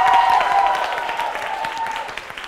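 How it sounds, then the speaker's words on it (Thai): A crowd at the final round of a stage dance competition applauds. The applause is dense and loud at first, then tapers off over a couple of seconds, with a faint tone lingering underneath. "ในรอบไฟนอลของเราครับขอเสียงปรบมือด้วยครับ"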